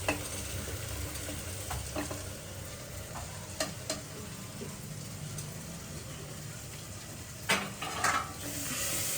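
Corn kernels fry in gravy in a pan during village-style Gujarati cooking, a steady soft sizzle broken by a few scraping stirs and clinks, fairly quiet and close, with no talk.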